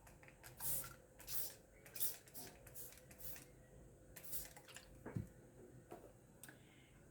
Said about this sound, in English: And I'm going to spray again.